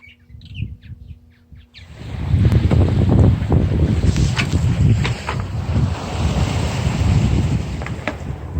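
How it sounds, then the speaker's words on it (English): Wind rushes and buffets across the microphone while sailing a small sailboat on open water in a southeasterly breeze, loud and steady after a quiet start, with faint chirps and splashes mixed in. "It's a nice southeasterly blowing."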